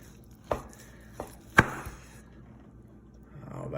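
A few sharp knife strokes slicing smoked beef coulotte on a board, close and moderately quiet, with soft background noise.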